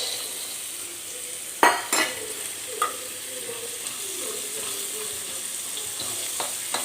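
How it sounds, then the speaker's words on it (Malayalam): Peanuts sizzle in hot oil beside onions pushed to one side of the pan, a steady frying hiss with a few sharp scrapes and clinks of a spoon stirring early on, close and alone. "സവാള അധികം കരിയുന്നതിന് മുമ്പ് തന്നെ നമ്മൾ സൈഡിലേക്കൊന്ന് ഒതുക്കിക്കൊണ്ട് അവിടേക്ക് നമ്മൾ കപ്പലണ്ടി ഇട്ട് കൊടുക്കുക"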